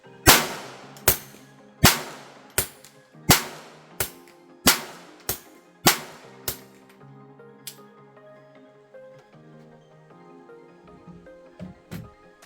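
A Ruger Mark I pistol fires a string of sharp shots about once a second, alternating between an unsuppressed version and an integrally suppressed one, each crack trailing a ringing echo outdoors, followed by quieter handling noises.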